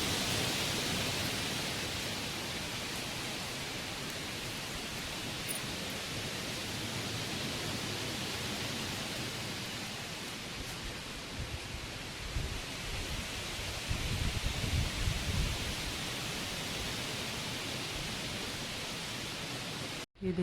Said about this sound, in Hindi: बारिश और पानी दोनों आए हुए हैं। तो ये बारिश का मौसम है